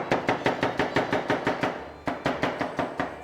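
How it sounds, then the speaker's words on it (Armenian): An onion being cut into cubes on a board with a knife, a fast, even run of crisp close chops, a brief pause, then more chopping at the same steady rhythm. "Սոխը ինչպես պիտի կտրատենք։"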